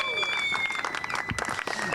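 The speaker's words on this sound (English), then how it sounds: "he gets a great round of applause from the crowd down below" Crowd applause rising from spectators below a GT4 race podium ceremony at Hockenheimring, a steady mass of clapping with scattered claps and some voices mixed in, moderately distant.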